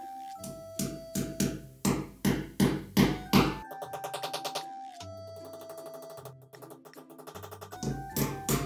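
A hammer strikes a wall hanger hook into a wall in a run of sharp, evenly spaced taps. Bursts of loud blows alternate with quicker, lighter tapping, all close and alone without talk.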